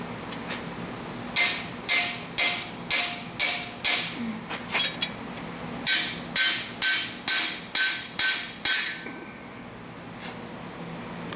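Metal-on-metal hammer blows drive a VW TDI dual mass flywheel around, about fifteen evenly spaced loud strikes in two runs with a short break between them, close and ringing.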